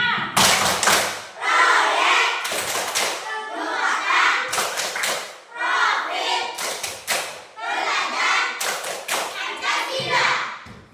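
Children at school perform a rhythmic clapping chant, bursts of sharp group claps alternating with chanted voices in a repeating pattern, fairly close and loud across several cycles.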